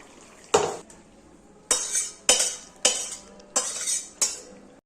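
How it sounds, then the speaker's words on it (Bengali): A pot of vegetarian drumstick curry with tomato and potato being lifted off the stove, with six separate sharp metallic clanks and scrapes of cookware against the burner, spaced about a second apart. "তাহলে আমি এখন তরকারিটা নামিয়ে দিই, হয়ে গেছে"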